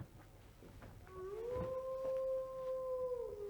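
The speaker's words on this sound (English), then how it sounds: "Bloody dog." A dog howls in one long, rising and sustained wail that starts about a second in and holds steady to the end, fairly close and clear over a quiet background.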